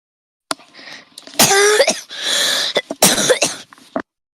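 Several harsh, close coughs in quick bursts, with a throat-clearing rasp between them and short gaps of silence.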